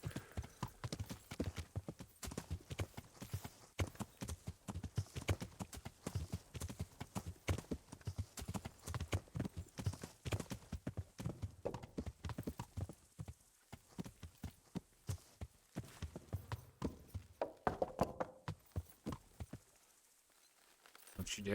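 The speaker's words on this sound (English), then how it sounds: "Hi, Pebbles. You're still a good horse." Hoofbeats of the horse Pebbles clip-clop steadily through most of a video game scene, a fast, even rhythm up close, with an occasional whinny. Background game sounds and some speech are mixed in, and the hooves stop near the end.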